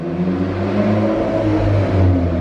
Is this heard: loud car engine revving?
yes